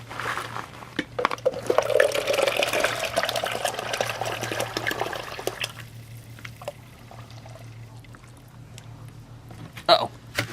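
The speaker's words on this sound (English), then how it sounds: "Just gonna pour the oil in there anyways." Motor oil trickles and glugs as it is poured into a car engine during an oil change, a soft liquid pouring sound that fades out partway through, with faint drips afterward.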